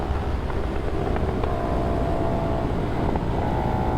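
A CFmoto 450ss motorcycle engine holds constant throttle at high speed on a twisty road, a steady droning hum with faint pitch shifts, buffeted by strong wind noise and no talk.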